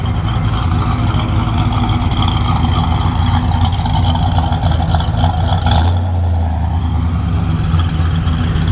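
A 1969 Dodge Charger engine idles with a deep, steady rumble throughout, close by; the tone drops and settles lower near the end as the revs ease off.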